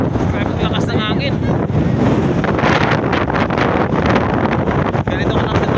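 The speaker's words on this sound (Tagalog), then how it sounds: "Grabe na makalakas ng hangin." Strong gusting wind ahead of a typhoon buffets the microphone in a loud, continuous roar, with a voice briefly heard under the rushing noise.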